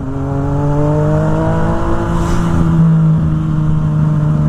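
A motorcycle engine revs and holds a loud, steady drone with rising harmonic whine while lane splitting at low speed through traffic, close to the rider.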